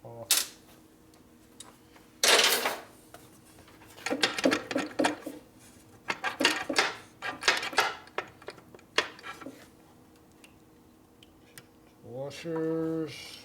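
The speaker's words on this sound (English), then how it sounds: "washers, more washers. More washers. Lots and lots of washers." Small metal washers from a 1980 Harley shovelhead top-end rebuild clink and rattle as they are handled, scattered bursts of light metallic taps up close, with a short voice near the end.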